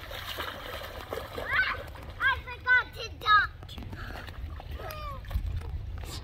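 Water splashes as a child swims in a river, scattered soft splashing mixed with a child's high chirpy vocal sounds and background outdoor noise, with speech present nearby.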